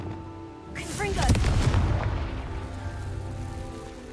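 A Confringo fire spell blasts in Hogwarts Legacy, a loud booming burst about a second in that crackles briefly and then settles into a lingering rumble under steady game ambience.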